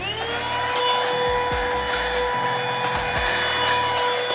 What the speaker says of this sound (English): So already we can use that vacuum I recommended.